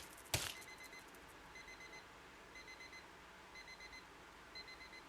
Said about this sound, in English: Can someone turn that alarm off?